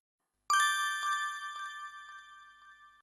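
A single bell strike in a classroom lesson rings out bright and clear, its pure tone sustaining and slowly fading over a few seconds, alone with no talk.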